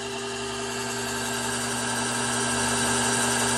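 A machine cutting a knife counterbore in titanium at about 300 RPM, fed slowly by hand, gives a steady, even drone with a constant hum, close and moderately loud, with no voices.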